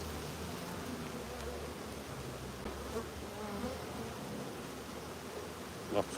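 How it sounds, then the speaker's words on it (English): Steady insect buzzing from a crowd of bees fills the whole stretch, a dense continuous drone with slight rustling, no voices, and a small knock near the end. "Lots of bees."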